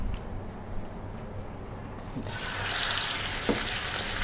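Chicken frying in a little oil in a hot wok, a steady sizzle that swells louder partway through, with someone talking over it in a home kitchen.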